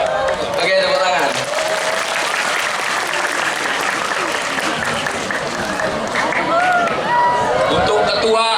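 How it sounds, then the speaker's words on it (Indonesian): School audience applauding at a student outreach session on the dangers of dating, a dense, steady clapping crush lasting throughout with voices and cheers mixed in. "Oke, tepuk tangan."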